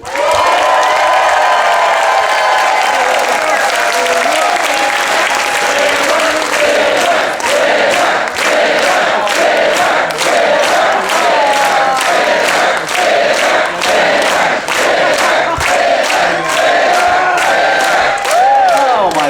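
An audience at a cruise ship main stage show cheers, whoops and applauds loudly and continuously for close to twenty seconds, with sharp claps and shouted yells throughout.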